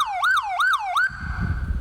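A police electric patrol motorcycle siren sounds from a single long press, wailing up and down three times quickly before holding a steady tone, loud and close, with rumbling handling noise at the end.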